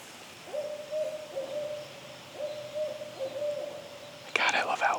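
Owls hooting at dusk on a forest trail: a series of steady, low, drawn-out hoots at moderate distance over faint background hiss, then a brief louder rustle at the end.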